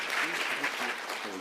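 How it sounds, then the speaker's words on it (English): Loud, dense applause from a conference hall audience welcoming a speaker from the CSIR at the UNESCO Africa Engineering Week, sustained throughout with a voice faintly audible beneath it. "A round of applause for Dr. Sandile Malinga"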